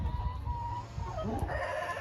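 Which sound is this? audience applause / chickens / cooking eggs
chickens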